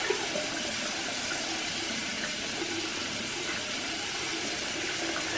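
Water being added to a clay face mask mixture during a home spa session, a steady soft running and splashing hiss of liquid, continuous and close with no talk.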